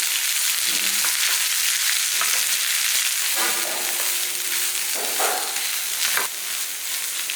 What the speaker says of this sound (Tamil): இதில் வந்து ஒரு அரை மூடி அளவுக்கு தேங்காய் துருவல் சேர்த்துக்கோங்க சேர்த்துட்டு இதை நல்லா வதக்கிடணும்